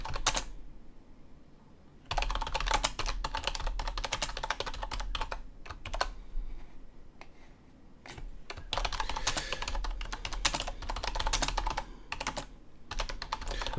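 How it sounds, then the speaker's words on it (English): Steady typing on a computer keyboard, a continuous run of close, crisp key clicks with brief pauses between bursts. "Then what we would do is we can just type in our text."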